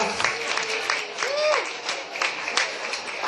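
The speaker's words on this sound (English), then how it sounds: "I like applause." Applause from an audience at a book launch, a lively patter of hands clapping for a few seconds in an indoor room, with some chatter mixed in.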